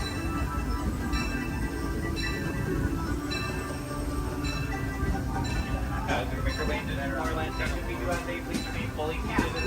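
A Tomorrowland ride train at Disney rumbles and clinks along steadily, with a recorded announcement voice speaking over the continuous mechanical noise throughout.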